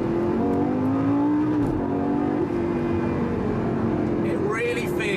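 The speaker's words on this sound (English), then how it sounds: "Those gear shifts are so fast, it's absolute madness." Lamborghini Gallardo LP560-4 engine pulling hard under acceleration, its steady loud drone rising and dipping with quick gear shifts, ending in a higher rising rev; a voice talks over it.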